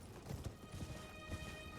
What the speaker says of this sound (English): I am riding a horse.